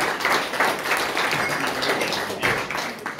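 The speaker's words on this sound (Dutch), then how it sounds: "ik wil graag een applaus voor Bevin van Brouwerij Ponk" An audience at a Leiden craftsman award ceremony claps steadily for a brewer from Brouwerij Ponk, a dense, even patter of many hands filling the room for a few seconds.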